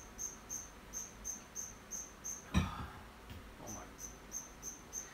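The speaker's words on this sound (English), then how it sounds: "there's like a cricket, and it's really starting to tick me off." Cricket chirping in regular, evenly spaced bursts of high trills, steady and fairly close, with one brief louder knock partway through; faint room ambience beneath, heard during a mountain bike park debrief indoors.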